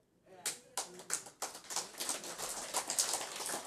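Clapping from an audience at a Buddhist Dharma talk, starting with a few scattered claps and thickening into a brief, fairly faint round of applause.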